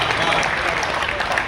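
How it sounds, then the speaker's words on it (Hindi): Applause from a Hindi kavi sammelan audience in Hazaribagh, a dense, steady wash of many hands filling the whole short stretch with no break, fairly loud and close. "उसके लिए जोरदार ताली होनी चाहिए।"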